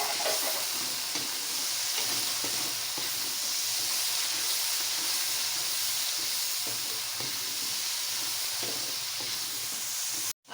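Chopped tomatoes drop into a hot pan of chana pulao and set off a loud, continuous close-up sizzle and hiss that lasts steadily throughout, with faint stirring scrapes and no talk, before cutting off sharply at the end.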